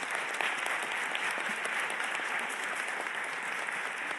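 Dense, continuous audience applause for co-panelists at a UN Refugee Agency progress review in Geneva, an even wash of many clapping hands filling the hall at a steady level throughout.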